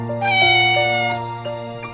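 A cat meows a few times in quick succession, loud and close, the first cry long and drawn out, the later ones shorter, over a low steady hum.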